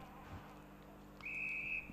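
A referee's whistle sounds at a Melbourne University versus Monash University varsity football match: one sustained, fairly loud blast lasting about half a second, cutting through steady crowd and field ambience.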